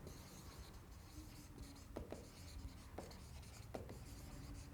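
Chalk or marker scratching across a board in a chemistry lecture hall, a steady run of short rubbing strokes with several sharper taps, close and fairly quiet with no talk over it.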